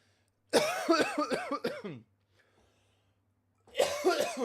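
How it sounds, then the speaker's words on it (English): Someone coughs close to the microphone in a rapid fit of several coughs, falls silent briefly, then starts coughing again. "I did not mean to cough into the mic like that"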